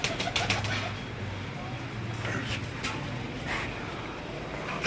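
Pigeons of a prized fancy breed cooing near the microphone, a low steady murmur with occasional brief flaps among bright chirping, continuous over the whole stretch.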